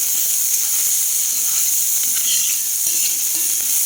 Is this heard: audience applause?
no